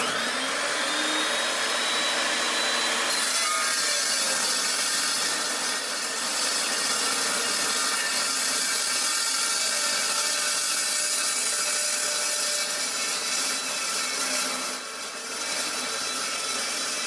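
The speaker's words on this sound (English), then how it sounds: "setting his chop saw up to cut this track bar at 25 and 1/4 inch" A chop saw cuts a steel track bar to length, a loud continuous high whine and grinding roar that holds steady for the whole stretch, with no talking.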